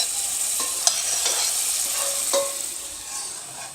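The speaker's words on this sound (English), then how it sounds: "you saute your vegetables before you put them in your burger" Vegetables sautéing in a hot pan for keto burger bowls, a steady close sizzle with a few sharp clinks and scrapes of a utensil stirring, no voices.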